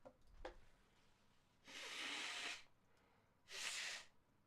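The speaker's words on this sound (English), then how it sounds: "Sorry, I got to blow my nose." A person with allergies blowing their nose, two loud, breathy honks about a second long each, close to the mic in a quiet room, preceded by a faint sniff.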